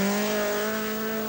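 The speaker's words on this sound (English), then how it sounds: "Andy Dawson is setting a fair pace in his Datsun Violet" A Datsun Violet rally car drones steadily and loudly at a high, even engine pitch on a stage of the 1980 Mintex Rally. The sound is brief and continuous.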